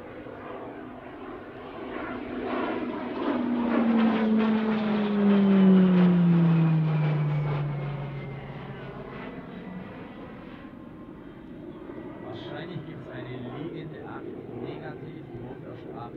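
A Grob G 120TP propeller aircraft flying aerobatic manoeuvres at an airshow, its engine swelling loud as it passes close with a falling pitch sweep, then fading into a steady distant drone.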